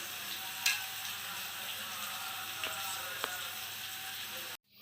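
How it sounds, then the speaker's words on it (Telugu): Chopped onions and four green chillies frying in oil in a pan, a steady, fairly quiet sizzle with a few faint stirring clinks, cutting off abruptly at the end. "దీంట్లో ఉల్లిపాయలు, చిన్నగా కోసుకున్న ఉల్లిపాయలు, ఒక 4 పచ్చిమిర్చి వేసి బాగా వేపాలి"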